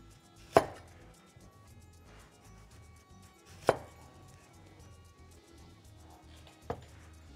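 Three sharp knife chops land on a cutting board while onion is sliced into rings, spaced about three seconds apart, with a quiet kitchen background between them.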